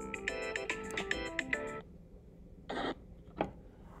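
A phone rings in a classroom: a quick burst of repeated electronic ring tones, close and clear, then a pause followed by a couple of short rustling or rubbing sounds.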